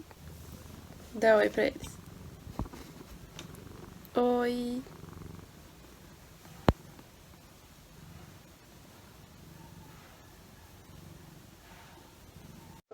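A small kitten purring faintly and steadily under a low background hiss, with a voice speaking softly now and then.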